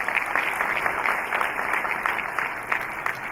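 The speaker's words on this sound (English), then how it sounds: "he deserves a thunder round of applause" Audience applause for Vasuji Shraf at a talk, a steady wash of many hands clapping at moderate volume, sustained and even throughout with no voices over it.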